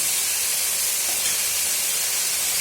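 Cauliflower dropped into a hot pan with curry leaves in a home kitchen, giving a loud, close, continuous hiss of steam and sizzle that holds evenly and cuts off abruptly, no talking.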